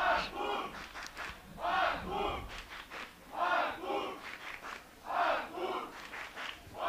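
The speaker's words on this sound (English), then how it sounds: "we can hear the Artur's teammates cheering on for him" Archery teammates at a European Youth Cup compound individual final cheer in repeated bursts of shouting, loud and close, rising and falling in waves over several seconds.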